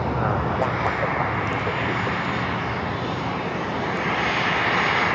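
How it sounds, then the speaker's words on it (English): An Embraer Praetor 500 business jet arriving at LAX roars as a loud, steady broadband engine rumble that holds for the whole stretch, with voices talking faintly over it. "That is an Embraer Praetor 500 coming in from Portland."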